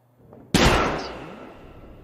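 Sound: gunfire in a video game

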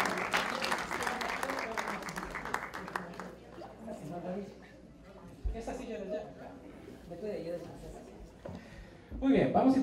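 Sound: audience applause

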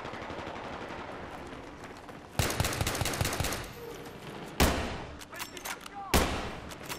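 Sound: sniper rifle gunfire, Battlefield 3 video game

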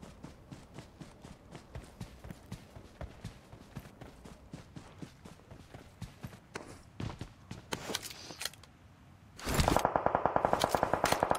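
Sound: gunfire in a video game

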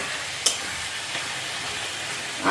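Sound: chicken frying in a pan

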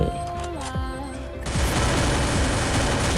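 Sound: gunfire in the video game Free Fire

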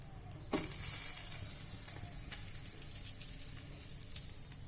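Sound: green eggplant roasting on the stove

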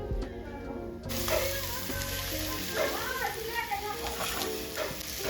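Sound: paratha sizzling on a hot griddle

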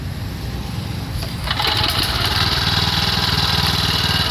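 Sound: Mitsubishi 6.3 hp petrol tiller engine running

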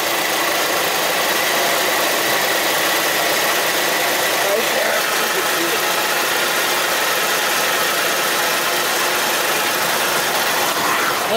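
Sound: 1978 Mercury Marquis Colony Park station wagon engine running

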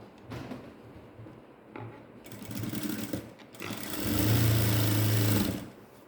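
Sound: sewing machine stitching a dart on pants

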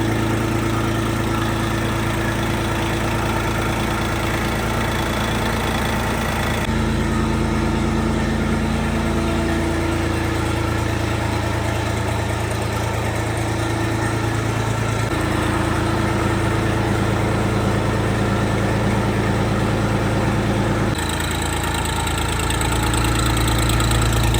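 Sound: mini tractor engine idling

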